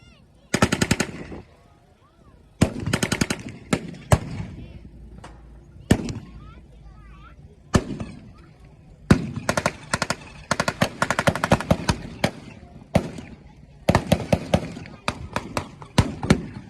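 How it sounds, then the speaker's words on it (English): Repeated sharp blasts from a 57mm cannon at a WWII reenactment, in bursts, some rapid like automatic fire, with occasional voices in between; loud and fairly close. "The Allied advance is covered by covering fire artillery from a United States 57mm cannon."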